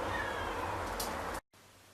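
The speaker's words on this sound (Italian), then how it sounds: "c'è Panna che mi miagola." A house cat meows close by in a short, clear call over a windy outdoor background on a December morning, then the sound cuts off abruptly.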